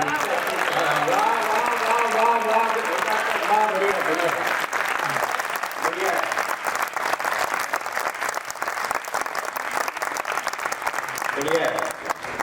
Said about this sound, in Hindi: इस सदन में पहली बार हुआ है कि चारों तरफ से तालियां आई हैं